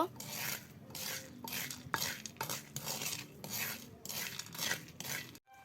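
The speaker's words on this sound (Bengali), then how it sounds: "এবার বালুর মধ্যে সিমের বিচি দিয়ে দিল" Bean seeds stirred in hot sand for roasting, a rhythmic gritty scraping and rasping in repeated close strokes, each sweep hissing through the sand, with no talking.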